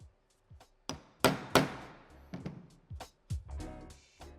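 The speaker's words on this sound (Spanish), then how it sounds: "Para colocar la tuerca insertable sería colocarla encima y darle un golpe para que nos entre" An insert nut is knocked into place while a tow hitch is fitted to a Ford Transit Courier, giving a run of sharp, close hammer-like metal blows at an uneven rhythm with no talking.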